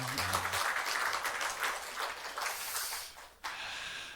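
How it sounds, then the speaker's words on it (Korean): A church congregation at a Sunday worship service breaks into applause, a dense wash of clapping that starts right after a brief voice, holds steady, dips, then surges again near the end. "박수 한번 크게 한번 다시 합니다"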